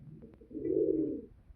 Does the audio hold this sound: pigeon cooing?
yes